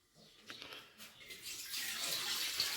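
Water pours into a cooking pot on a lit gas stove, a steady splashing stream that builds and thickens over a few seconds, close and moderately loud, with no talk.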